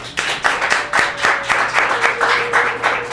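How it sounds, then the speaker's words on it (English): A small group gives a round of applause in a Chicago tea setting, with close, loud, fairly steady clapping in quick repeated pulses and a faint background hum. "Let's give one more round of applause."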